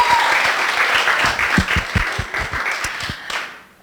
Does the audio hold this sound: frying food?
no